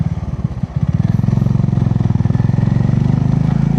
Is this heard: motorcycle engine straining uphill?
yes